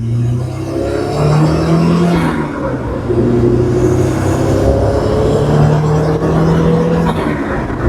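A turbocharged engine in a Geo Tracker drones close by, revving and pulling steadily under acceleration with a whirring undertone.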